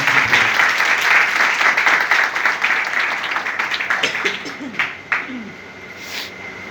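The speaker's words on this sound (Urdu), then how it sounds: "زوردار تالیاں اپنے خدا میں۔" A church congregation claps loudly and continuously for several seconds. The applause then thins out as a preacher's voice resumes speaking over it.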